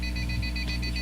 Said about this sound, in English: What's the beeping?